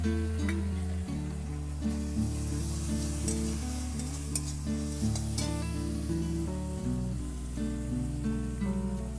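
Pasta sauce with soy and tomato sauce sizzles in a pan while being stirred, a steady frying hiss under prominent background music.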